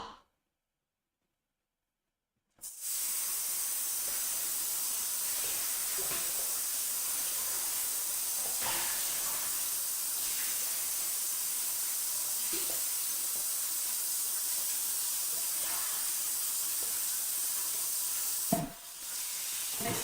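Running tap water rinses a few items in a sink, a steady hissing spray that starts abruptly after a moment of silence and carries on evenly, with faint clinks of the items moved under the stream.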